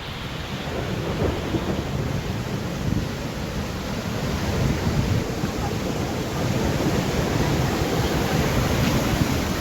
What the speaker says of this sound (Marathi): सिपना नदीला महापूर आलेला आहे।